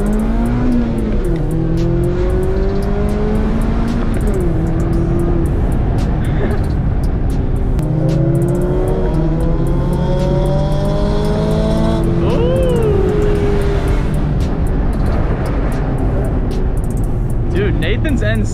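A Mazda Miata ND engine revving up to its 7,800 rpm redline in a driving pull: sustained loud engine drone with rising pitch sweeps that climb and shift repeatedly under constant road and cabin noise, with people talking over it.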